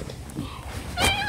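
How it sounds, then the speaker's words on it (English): A cat gives a short meow near the end, a brief strained cry rising out of a muffled, rustling background, close and fairly loud, with no talking over it. "Why is he meowing like that?"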